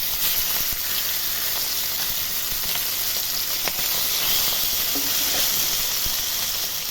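After being flipped, rohu fish pieces keep frying in hot mustard oil, a constant close sizzle with faint spatters and a soft steamy hiss, and no one speaking.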